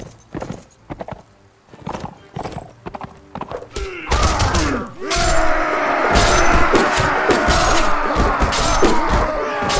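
Horse hooves clop in the Mount and Blade: Warband video game, sparse at first and then a dense, loud clatter of galloping hooves and battle noise that keeps building.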